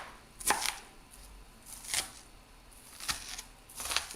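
A knife cutting onions, about four separate crisp chopping strokes spaced roughly a second apart, close and fairly quiet, with no speech.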